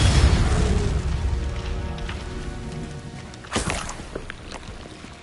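Fire and blast spells (Confringo, Incendio) go off in the game Hogwarts Legacy, a loud rumbling burst at the start fading into crackling, then a sharp second pop, with no talking.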